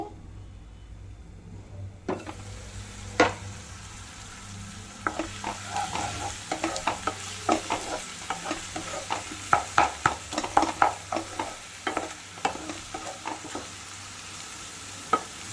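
Onions cooking in a pan for an egg and drumstick curry, a quiet low sizzle that turns into a busy series of sharp clicks and taps from stirring and the lid, close and without speech.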